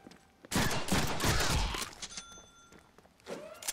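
A burst of rapid gunfire erupts in the Deadpool video game, a loud rattling volley lasting over a second that trails off, followed by a brief softer shot a moment later.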